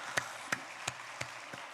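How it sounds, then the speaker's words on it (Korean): A church congregation claps in slow, even unison, with about five distinct beats spaced evenly apart over a soft background hush. The clapping sounds faint and distant. "하나님께 영광의 박수예요."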